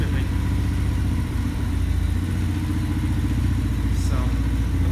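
X-22 125cc motorcycle engine idling at about 1,500 rpm, a steady, fairly loud low putter running unbroken throughout, with a faint voice in the background.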